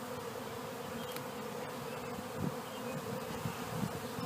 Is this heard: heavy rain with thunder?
no